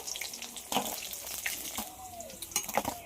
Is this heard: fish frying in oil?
yes